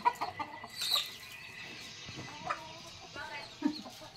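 Chickens cluck intermittently at close range, with short bursts and a few louder calls over a busy outdoor background.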